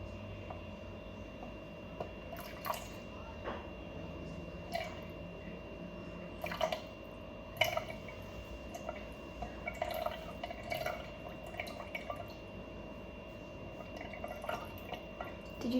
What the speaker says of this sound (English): We're going to add 50 milliliters of vinegar to this solution.